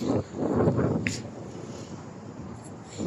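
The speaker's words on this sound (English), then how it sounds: "It's windy." Low, steady wind buffeting a microphone on a beach, a broad rumbling roar that swells early and then settles into a constant whoosh.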